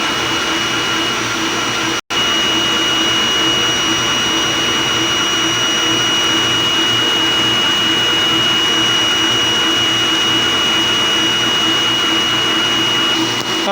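A DTF printer running a print head cleaning cycle makes a loud, steady mechanical whirring hum with a constant high whine, cut by one brief dropout near the start.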